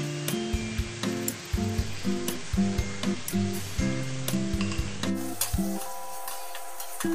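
Chicken curry masala with cashew and poppy seed paste stirred in a frying pan, repeated scraping strokes and utensil knocks over a constant sizzle, close and fairly loud with no speech.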